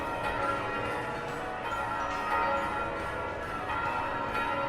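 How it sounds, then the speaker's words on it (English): Noisy church bells ring in a town in American Truck Simulator, a clangorous peal of overlapping strikes repeating at a steady rhythm, moderately loud and alone. "Some very noisy bells"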